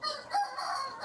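A gamecock at a cockfighting gallera crows once, a loud close-range call that rises and holds for about a second with no talk over it.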